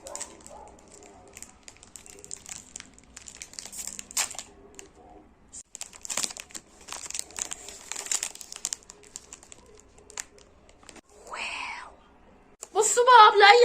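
A crinkly plastic wrapper on a Maxillo biscuit packet is torn open in bursts of close crackling and rustling, with a louder burst at the end and a voice talking at times.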